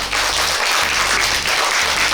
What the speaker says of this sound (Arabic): اعطونا تصفيق على الام